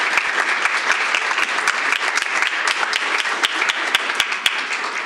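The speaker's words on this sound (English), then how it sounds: "One more round of applause as she exits the stage." An audience at a school board meeting applauds as a student leaves the stage, a dense, steady round of clapping with individual sharp claps standing out, continuous and fairly loud for the whole stretch.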